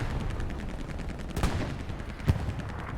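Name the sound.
artillery fire in a war video game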